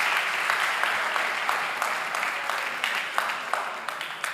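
An audience at a talk about Chess.com applauds, dense continuous clapping from a crowd that holds steady, moderately loud with sharper individual claps standing out.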